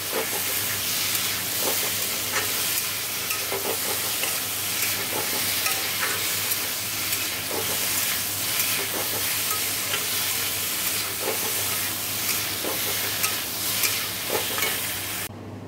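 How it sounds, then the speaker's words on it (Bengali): Salt, turmeric and a little sugar frying in a pan for a pabda fish curry, a steady close sizzle with scattered scraping stir strokes running throughout, with no talking. "দেখো এই যে নুন হলুদ একটু চিনি দিয়ে দিয়েছি 2-4 দানা। ভালো করে ভাজা ভাজা করে নেবো।"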